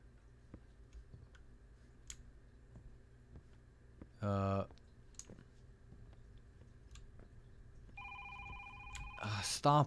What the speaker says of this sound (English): Stop with the freaking phone.